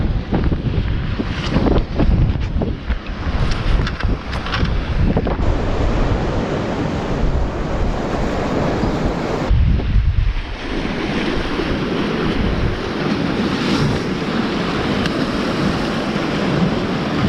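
Steady roaring wind buffets the microphone on a rocky sea shore, with surf washing in the background and gusts rising and falling throughout.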